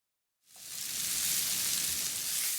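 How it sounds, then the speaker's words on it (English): Vegetables sweat in a pot for a one-pot cupboard cassoulet, bursting into a sizzle after a brief silence and then holding a dense, even hiss close up, with no speech. "From here, we'll just season and sweat the veggies."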